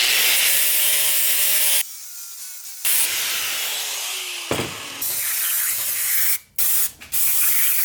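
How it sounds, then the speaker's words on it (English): A grinder works a transmission selector rod during an LS3 Miata rebuild, a loud harsh continuous grinding hiss that cuts off briefly, returns with shifting pitch, and ends in a few quick stops and restarts. "I'm gonna grind it down on this one."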